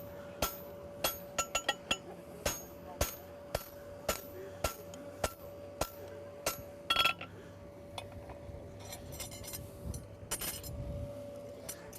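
Steady, evenly spaced hammer blows ring on a horseshoe being forged, each strike a sharp metallic clang in a regular rhythm, then the pattern loosens into lighter, irregular taps and scraping.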